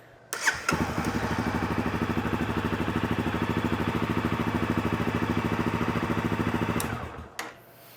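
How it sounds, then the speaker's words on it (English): A dirtbike fitted with a lithium-ion battery fires up after a short crank and settles into an even, rapid single-cylinder putter, loud and close, running steadily for several seconds before shutting off. "Let's give the bike a start and make sure it's working."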